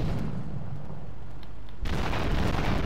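Grenade explosions in the video game GTA 3 boom in quick succession, with a dull rumble followed by a sudden louder, sharper blast near the end.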